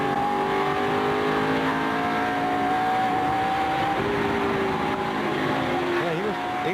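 Onboard a Michael Waltrip-driven NASCAR Napa Chevrolet race car, the engine holds a loud sustained drone, dipping briefly and then revving back up as the throttle is worked.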